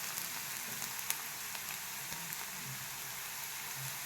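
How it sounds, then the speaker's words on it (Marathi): Onion and green chillies fry in hot oil with a steady, even sizzle that stays fairly faint throughout, with a few soft pops and a low bubbling underneath. "चांगलं आपल्याला तळून घ्यायचं आहे कांदा मिरच्याला।"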